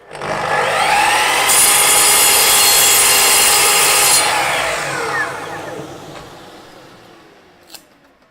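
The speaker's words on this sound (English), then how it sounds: "now I'm going to cut that off with the Capex" A Capex saw cuts timber during a garden bench repair, giving a loud, close, harsh buzzing cut that holds for several seconds and then winds down, with a faint knock near the end.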